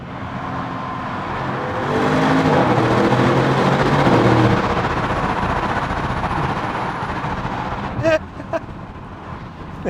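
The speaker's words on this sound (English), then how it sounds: "Down steps a few gears in the tunnel." A 2023 Audi RS6 downshifts through several gears inside a tunnel, the engine swelling into a loud, booming roar that reverberates off the walls before easing, followed by a few sharp knocks near the end.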